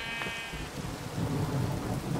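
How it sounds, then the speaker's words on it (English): Steady rain pours in a Minecraft thunderstorm, with a deep rolling thunder rumble swelling partway through and a faint bleat-like tone at the start. "Why did it just start to rain?"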